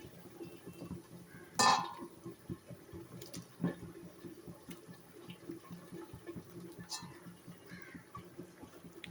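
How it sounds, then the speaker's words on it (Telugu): Boiling rice for Rayalasema-style chicken biryani is stirred in a pot: soft bubbling water and a sharp clink of a utensil against the pot, then scattered quieter scrapes and stirring sounds, close and low. "రైస్ కూడా బాయిల్ అవుతుంది. ఒకసారి నీట్గా మిక్స్ చేసుకుందాం ఫ్రెండ్స్."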